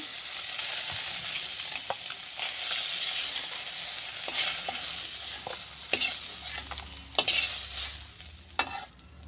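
Fish frying in hot oil in a pan in a village kitchen, a steady close sizzle and crackle running throughout with occasional sharper pops and spatters, no voices.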